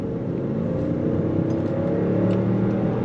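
A 2024 Range Rover Autobiography luxury SUV with rear-wheel steering rolls through a U-turn, its engine a steady, smooth low hum heard from inside the cabin, with no voices.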